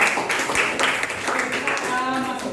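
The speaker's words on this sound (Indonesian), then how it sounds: "beri tepuk tangan buat dia" Classroom applause for a student, a burst of clapping from a group of pupils lasting a couple of seconds, fairly close and steady, mixed with children's voices and chatter.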